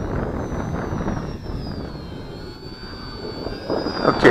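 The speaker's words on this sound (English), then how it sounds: "Great little airplane." A small XK DHC-2 A600 RC airplane's engine whines steadily overhead, its high-pitched drone shifting slightly in pitch as it passes, with light wind noise underneath.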